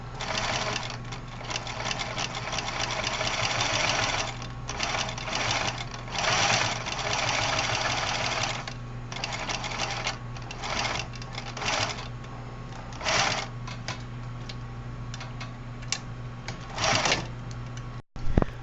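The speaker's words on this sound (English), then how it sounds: "I'm sewing the bottom part of the window. It's the first stitch of the pocket." A sewing machine stitches across the bottom of a pocket window in bursts of rapid, close mechanical whirring, stopping and restarting repeatedly with short pauses between runs.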